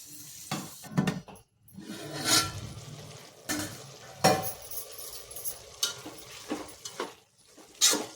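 Mushrooms cooking in a pan under a covering plate, with quiet sizzling and repeated spoon-and-metal clatters and scrapes coming in uneven bursts, close by.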